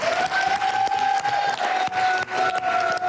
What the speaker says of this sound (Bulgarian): Силни аплодисменти за името!